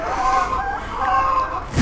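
Chickens at feeding time cluck and call close by, a steady chorus of overlapping hen voices with rising drawn-out tones, fairly loud and without speech.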